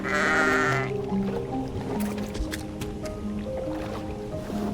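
Sheep bleating inside a sheep pen in the sky-island sandbox survival game Aloft, mixed with squishy, dripping game sounds and a steady low ambient bed, the bleats fairly close and repeated.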